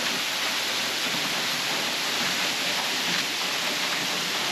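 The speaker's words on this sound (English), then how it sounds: "So here we are, right behind the waterfall." A waterfall swollen by floods in New South Wales, heard from right behind the falling water: a loud, continuous, full-bodied roar of rushing water with no letup.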